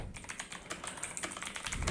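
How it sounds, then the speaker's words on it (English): Rapid, irregular clicking of keys on a computer keyboard, close and fairly soft, with no other sounds. "So here I'm typing the text."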